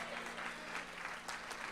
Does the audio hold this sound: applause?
yes